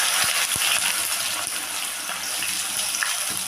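Chopped onions from two large onions drop into hot oil already holding four cardamom pods, giving a steady, loud broadband sizzle with a few sharp clicks near the start, close and continuous with no talking.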